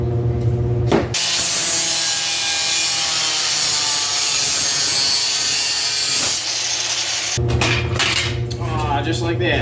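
Sawing through a metal Schwinn bicycle part being cut apart for bar stool furniture: a steady, close grinding rasp running about five seconds, bracketed by brief clanks and handling knocks.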